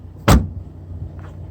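A Volvo S60 trunk lid shut with a single solid thump, followed by a faint click a moment later in a quiet setting.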